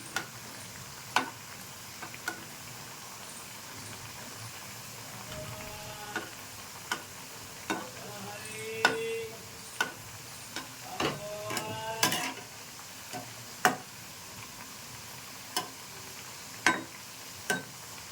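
Malai jilipi pitha frying in oil, a quiet sizzle broken by sharp ticks and clinks of a utensil against the pan at irregular intervals, close and without talk.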